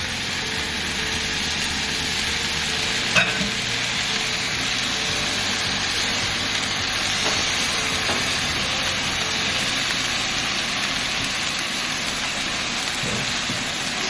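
Corn with lime cooks in a hot pan, a steady hissing sizzle like rain that holds an even level throughout, broken by one brief clack a few seconds in.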